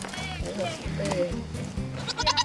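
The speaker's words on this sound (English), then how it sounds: "the borrowed pickup truck back to Jackster, the transition of the goats to their new home went very smoothly." Goats bleat close by while being moved into a new pen, and people talk and coax them over the calls.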